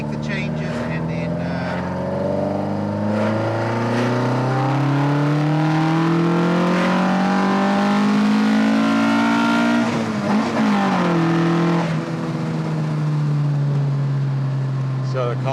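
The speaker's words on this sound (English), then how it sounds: "so the car screams, hey?" A loud modified Opel Kadett engine revs and roars continuously, pitch sweeping up and down, with a sharp rise and fall near the end.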